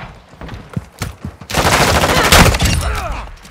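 Gunfire in Call of Duty: Modern Warfare 2 during a Team Deathmatch on Zarqwa Hydroelectric: a few scattered shots, then a loud sustained burst of rapid automatic fire lasting about two seconds.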